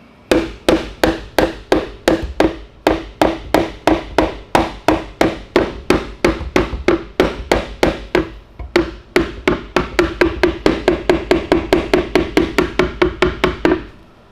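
A hammer beats out a metal part of an adjustable sway bar on a Ford Mustang. The strikes are sharp and close, several dozen of them, coming in a steady rhythm that speeds up toward the end.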